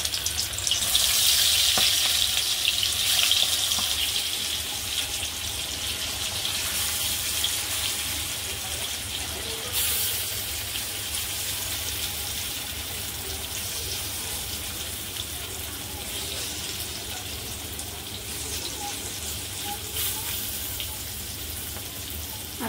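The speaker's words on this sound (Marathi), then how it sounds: "आणि आता हा एक पीस आपण टाकून घेणार आहे तेलामध्ये" Masala-coated chicken pieces frying in hot oil over medium gas, a continuous close hiss and sizzle that fades slightly over time, with no talking.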